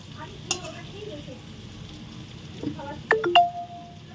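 Spices tempering in hot oil left from frying potato and papaya, a soft crackling sizzle at low level with a few metallic clinks, a faint voice and a short electronic beeping tone near the end.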